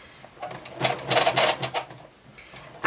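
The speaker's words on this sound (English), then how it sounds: "you can hear it, it just kind of like bounces around in the case" A loose, likely non-genuine bobbin rattles inside its case on a home sewing machine, giving a burst of close, clattering taps and knocks that builds and fades over a couple of seconds.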